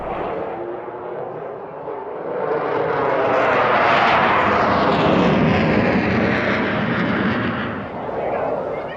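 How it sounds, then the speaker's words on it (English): A Belgian Air Force F-16 fighter jet at the Eastbourne airshow makes a loud, rushing roar that swells strongly as it passes, holds at full intensity for several seconds, then eases slightly toward the end. "particularly from the Belgian Air Force, and that's their F-16"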